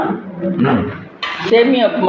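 A spoon scrapes and clinks against a pan as thick semiya upma is stirred, while a person talks nearby.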